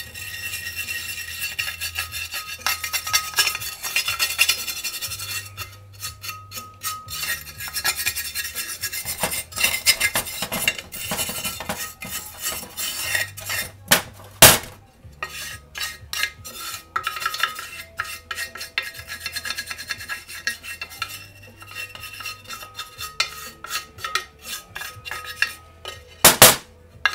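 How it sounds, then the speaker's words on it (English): Pull start parts are scrubbed with a wire brush, giving bursts of close scratchy bristle strokes broken by pauses and a few sharp metallic clinks and knocks. "I'm just going to clean this up with a wire brush"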